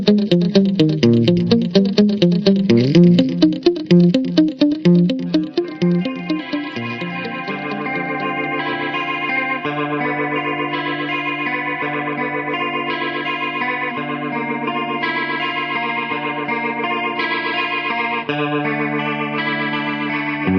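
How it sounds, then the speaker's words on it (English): Line 6 Flextone AX2 guitar tone with stereo effects: a fast picked run with heavy chorus and distortion that settles into long, shimmering sustained notes with echo, loud and unbroken with no talking. "Here's another example of an AX2 tone with stereo effects."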